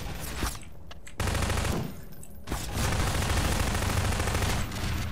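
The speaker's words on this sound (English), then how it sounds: "Took him out with a machine gun." Machine gun fire in the video game Cosmonaut: loud, rapid bursts of automatic shots, with a couple of brief pauses between them, continuing for several seconds.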